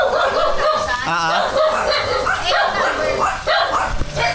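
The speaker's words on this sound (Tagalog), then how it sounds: "Dami aso." Dogs barking and yipping amid a busy mix of voices in Tanza, Navotas, with the barks fairly close and overlapping the talk.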